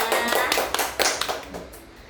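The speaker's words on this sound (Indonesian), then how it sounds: "Kita kasih tepuk tangan dulu dong buat temennya." A classroom applauds a student with a short, lively patter of clapping hands, several people together in quick overlapping claps that fade slightly toward the end.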